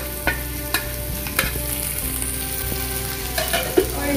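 Chopped onion, garlic and green chili frying in a pan for Pad Thai noodles, a steady close sizzle punctuated by regular clicks and taps of a spatula against the pan.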